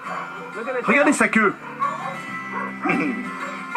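A dog in a swimming pool gives yelping, whimpering cries in two close bursts, with a person speaking French over and between them.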